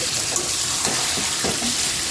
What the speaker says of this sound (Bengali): এইবার ভালো করে কিন্তু মাংসটা কষিয়ে নেব। চলো কষাতে থাকি।